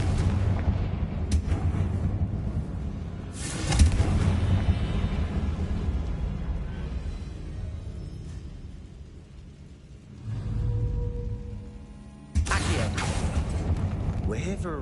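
Confringo blasting spells detonate in Hogwarts Legacy: several loud, booming explosions with rumbling tails, spaced apart over a quieter game background where a voice is also heard.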